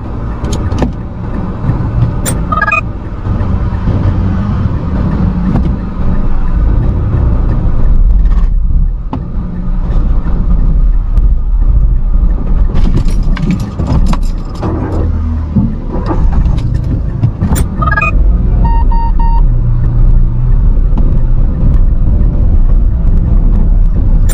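A manual transmission car recovers after stalling on an uphill road, its engine running as a loud, continuous low rumble with a couple of brief clicks, steady throughout with no talk.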